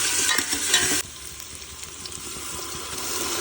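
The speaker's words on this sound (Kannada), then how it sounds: "ಅದಕ್ಕೆ ಹಸಿಮೆಣಸು ಮತ್ತು ಶುಂಠಿ ಬೆಳ್ಳುಳ್ಳಿ ಪೇಸ್ಟ್ ಸೇರಿಸಿ ಚೆನ್ನಾಗಿ ಫ್ರೈ ಮಾಡೋಣ" Onions sizzle in hot oil with green chili and ginger garlic paste being stirred in, a steady bright frying hiss that drops to a quieter crackle after the first second, with scraping from a spoon and no voices.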